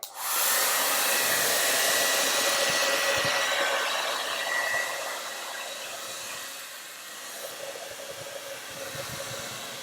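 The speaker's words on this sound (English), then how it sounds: "So I'm going to do one final dry of the snowflake." A hair dryer blows steadily on a paper snowflake craft, a loud broadband rush that starts abruptly, holds strong, then drops a little lower for the remaining seconds without any voices.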